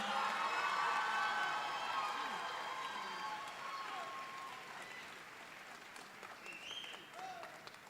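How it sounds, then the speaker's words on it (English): A crowd at a middle school graduation ceremony applauds and cheers for the top ten graduates, loud at first and then thinning out, with scattered voices and shouts mixed in. "Can you all give these top 10 a round of applause?"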